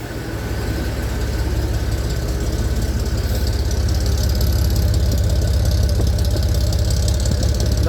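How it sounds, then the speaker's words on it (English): An old, rusty Ford F150 pickup engine idles steadily up close, a low, even, mellow rumble with a faint ticking knock running through it. "Man, this thing purrs."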